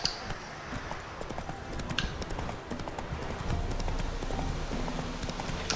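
Galloping horse hooves in The Witcher 3 video game, a steady rapid drumming of hoofbeats that runs through the whole stretch at a fairly even loudness, with game ambience underneath.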